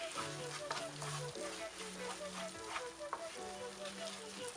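Onions for a chicken curry fry in a pan with little oil, a steady soft sizzle running throughout with faint tonal hums beneath and occasional light clinks.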